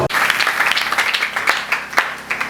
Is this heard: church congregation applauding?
yes